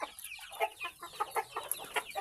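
A chicken clucking close by in a series of short, rhythmic clucks and chirps, moderately quiet, with no voices over it.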